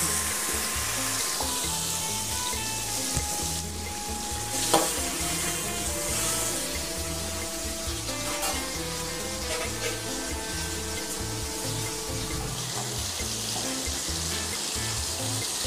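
Chopped onions sizzle steadily in hot oil in a wok-style pan, a continuous crackling fry with occasional stirring scrapes, close and fairly loud, no voices.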